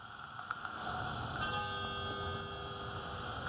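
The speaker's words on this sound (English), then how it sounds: "a bell ringing." A memorial bell rung for COVID-19 victims at an outdoor ceremony sounds as a faint, sustained ringing tone that hangs over a soft background hiss, distant and quiet, with no talking.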